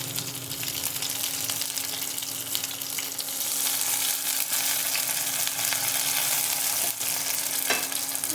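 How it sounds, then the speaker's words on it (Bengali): Dried red chillies fry in hot oil in a pan, a steady close sizzle that runs unbroken for several seconds with faint stirring clicks and no voices. "আমি প্রথমে ভেজে নেব কয়েকটা শুকনো লঙ্কা"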